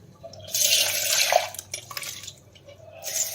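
Water from boiled peas being poured off in a kitchen, a splashing pour that swells and then breaks into drips and light clatter of a pot, fairly close and without talk.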